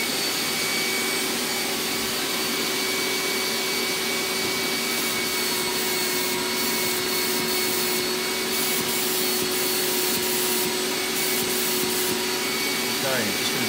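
HVLP spray gun hissing steadily as it sprays hydro dipping activator onto a camo gun stock, a continuous loud broadband rush with slight fluctuations throughout, close by, no talking.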